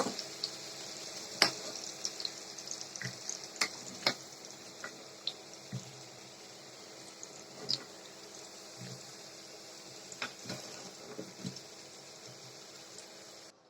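Onions frying in hot oil in a pan, a quiet steady sizzle broken by scattered sharp crackles and pops, heard up close with no talking.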